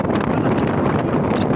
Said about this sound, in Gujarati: જબરજસ્ત પવન આવે જો ભાઈ.